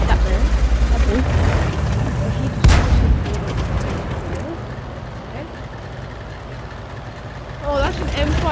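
A tank cannon fires in World of Tanks, one sharp loud boom near the middle standing out over continuous rumbling engine and battle noise, with a player talking over the game.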